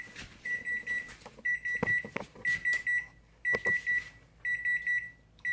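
A microwave oven beeps repeatedly in short clustered bursts of high electronic tones, close and clear, with small clatters of handling in between, while it finishes heating a batch of party mix in a home kitchen.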